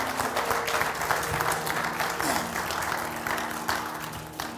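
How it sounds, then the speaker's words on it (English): A church congregation claps in praise during a Sunday morning service, a steady dense wash of many hands filling the room for several seconds, with a low hum and faint voices underneath. "Will you give the Lord a hand clap of praise this morning?"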